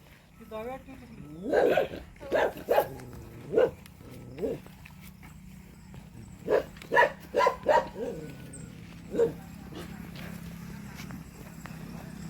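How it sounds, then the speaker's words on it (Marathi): A farm dog barks at goats being fed cut fodder at home in rural Maharashtra, sounding two clusters of sharp, moderately near barks with a pause between, while people talk over it. "आमच्या काळ्याला काय दिसलं भुकायला लागलं"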